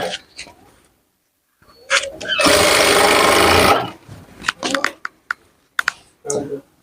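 A sewing machine runs in a steady loud burst for about two seconds while stitching a fish cut umbrella lehenga, surrounded by short clicks and handling noises before and after.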